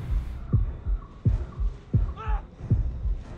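Heavy double-thump heartbeat from the Horrorfield mobile horror game pulses rapidly and evenly, four or five beats close and loud, with a brief faint game tone midway.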